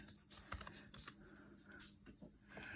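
Password being typed on a computer keyboard: a short run of quick, light key clicks at close range with a few sharper taps, over a faint room hum.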